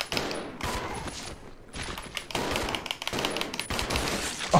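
Gunfire rattles in loud, rapid volleys while zombies are shot in the video game Resident Evil 0. The bursts come close together with brief pauses between them, and no voices are heard.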